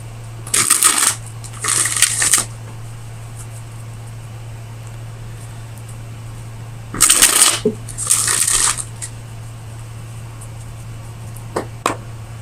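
Tarot cards shuffled by hand in four short riffling bursts, two near the start and two midway, over a steady low hum, with a couple of soft taps near the end and no talking.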